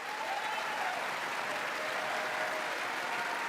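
A Congress audience applauds in a sped-up playback, producing a fast, continuous, even hiss of many hands clapping at a moderate distance with no break.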